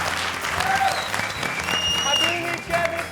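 Loud sustained applause from a studio audience at a Bhojpuri game show, dense clapping filling the room throughout, with a presenter's voice talking over it.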